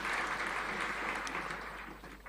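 An audience applauds after a speech at a Kiswahili Language Day celebration, with dense, steady clapping that stays loud and close throughout and eases off only slightly at the end.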